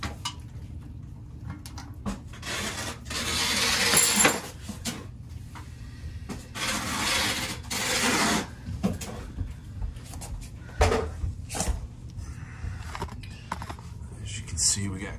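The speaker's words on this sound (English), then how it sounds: "Let's lift the toilet" A toilet being lifted off its base with loose bolts and a failed wax ring, heard close as a string of clunks, scrapes and knocks of porcelain against the floor, with people talking quietly in between.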